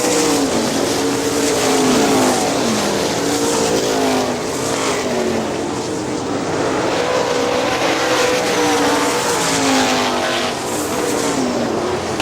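Sprint cars race around Hartford Speedway Park in a 410 sprint event, engines roaring loudly and continuously with rising and falling pitch as the pack laps close by.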